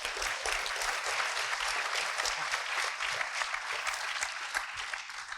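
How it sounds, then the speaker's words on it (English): Sustained audience applause at a talk event, steady and dense clapping throughout at close range with no voices over it. "Can we have a big round of applause, please?"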